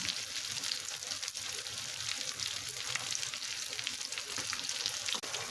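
Tortang talong, an eggplant omelette, sizzling in a frying pan: a continuous loud crackle of hot oil with close, busy popping throughout and a small clatter near the end.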